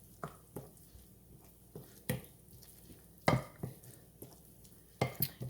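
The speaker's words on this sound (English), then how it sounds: "My egg and cheese and parsley and my little herbs in here to start giving a stir." A utensil stirs a mixture of egg, cheese, parsley and herbs for a crustless spinach quiche, giving soft wet squishes and sharp clinks against the bowl at irregular intervals, close and quiet.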